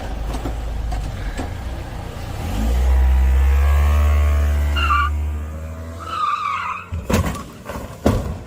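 A car pulls away hard with a loud, swelling engine roar and tire squeal lasting several seconds, then fades, followed by scattered bumps and brief voices.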